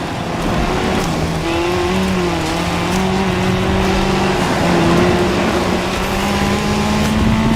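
Engines roar steadily throughout as a car and a motorcycle race side by side on a shared course in The Crew Motorfest, with rising and falling pitch as they accelerate, close and continuous with no talk.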